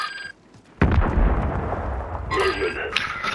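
Gunfire in a street-fight shooting video game opens with a sudden loud burst after a brief near-silence, then continues as dense, rumbling shots and blasts under a voice talking.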